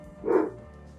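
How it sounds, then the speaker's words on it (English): A dog in the video game Arctic Eggs gives a single short, muffled bark, close and moderately loud against a quiet background. "And he's still barking. Stop barking."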